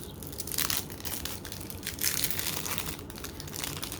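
Plastic wrapping on Japanese Pokémon theme deck card packs crinkles and crumples close up, in irregular bursts of sharp rustling and crunching with no voices.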